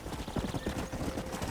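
Horse hooves galloping in the video game Red Dead Redemption: a fast, steady clip-clop rhythm of hoofbeats running throughout, close and fairly loud, with a faint whinny.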